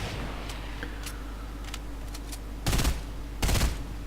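Sniper rifle shots in a Fortnite duel, two loud broadband reports about a second apart near the end, after faint distant pops over steady game ambience.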